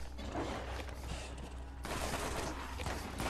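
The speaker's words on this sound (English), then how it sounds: "Is that a grenade? That is grenades." Grenade explosions and weapon fire in the Borderlands video game come as a dense, loud burst of blasts and rattling shots with a brief lull midway.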